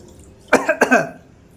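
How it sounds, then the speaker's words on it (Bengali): A few sharp coughs in quick succession, close and clear, brought on by spicy chicken cooking fumes in a home kitchen. "মাংস যা করেছে সেই কাশি হচ্ছে"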